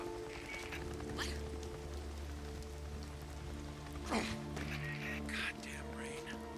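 Rain falls steadily in the game Days Gone, a soft continuous patter on surfaces beneath a low ambient hum, with speech briefly audible over it.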